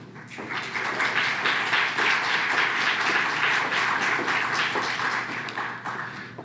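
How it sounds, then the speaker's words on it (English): Conference audience at a session of short podium talks gives steady applause, many hands clapping evenly at moderate loudness before tapering off at the end. "That applause is appreciated but undeserved."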